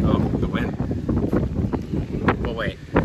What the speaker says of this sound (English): The wind is blowing, it's about to start storming